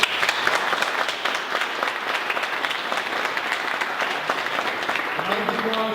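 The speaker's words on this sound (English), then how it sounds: "round of applause for DHive, please" An audience at a tech meetup applauds, a dense, steady wash of clapping hands filling the room, with a voice briefly speaking near the end.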